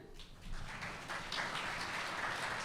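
Audience applause welcoming panel speakers at a workshop on employability skills, a broad even wash of clapping that swells after half a second and holds steady, moderately distant throughout.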